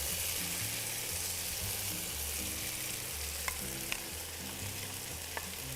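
Tomato sauce sizzling and bubbling in a pan with beef meatballs, a steady dense frying hiss with a few small clicks and bumps, no talk.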